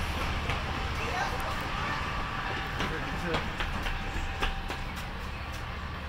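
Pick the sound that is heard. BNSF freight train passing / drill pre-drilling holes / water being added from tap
BNSF freight train passing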